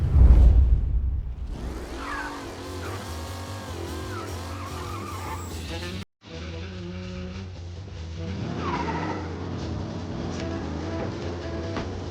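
Period car in Mafia: Definitive Edition with tires squealing as it pulls away, then the engine revving and shifting with a rising, wavering pitch. After a short cut it carries on at a steady drive.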